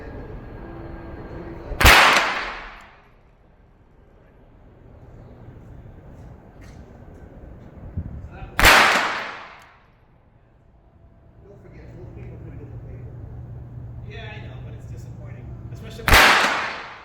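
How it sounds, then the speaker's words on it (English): Three sharp, loud .22 rifle shots fired from a rest with Aguila Super Extra high-velocity rounds, spaced several seconds apart, each with a brief decaying tail over a quiet background. "With 10 fresh new rounds of Aguila Super Extra in the tube, I returned the rifle to the rest and I continued the ammo testing"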